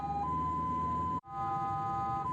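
An ambulance siren wails steadily in traffic on the way to carry a critically ill baby, with a sustained tone that breaks off for a moment midway and then resumes at the same loud level.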